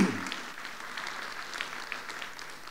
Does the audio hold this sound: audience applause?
yes